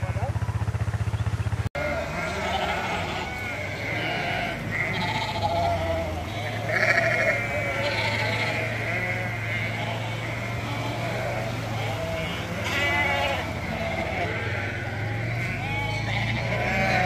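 Ewes bleating repeatedly in a farm pen, several overlapping calls at moderate distance over a low engine rumble, with some voices in the background.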